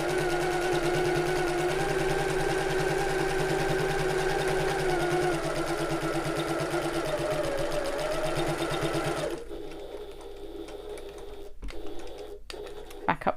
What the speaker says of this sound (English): then I'm going to sew this second piece of webbing into place as well